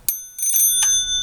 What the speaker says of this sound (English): So you hear that bell, and you know that you're flowing air.